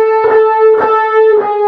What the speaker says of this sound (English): ending up on the first string at 10, bent with vibrato.